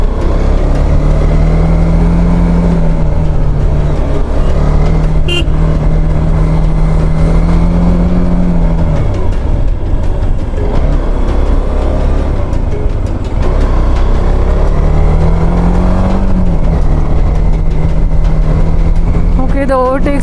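A TVS Apache RTX motorcycle engine drones loud and close as it climbs an uphill trail near Shimla and Kufri, steady with rising and falling revs, wind rush over it and someone talking at times.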